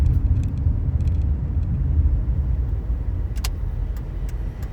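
A car drives along a road with a steady low rumble of engine and tyres heard from inside the cabin, with a few faint clicks and rattles over it and no talk.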